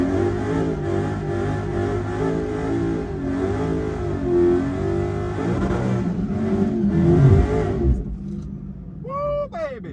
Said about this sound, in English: All right, second gear burnout.